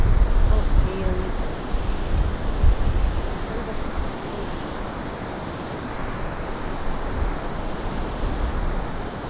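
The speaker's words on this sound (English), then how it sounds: "Look at those waves." Ocean surf rolls in steadily along a Gold Coast beach in Queensland, a broad continuous wash of breaking waves with wind buffeting the microphone, loudest in the first few seconds and then settling into a constant roar.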